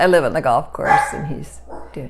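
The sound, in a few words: dog barking at the neighbors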